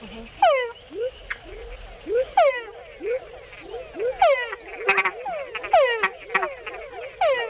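Several male frogs call in a Panamanian forest at night, repeated rising whines, some followed by short added chuck notes, overlapping in an irregular chorus with insect buzzing behind.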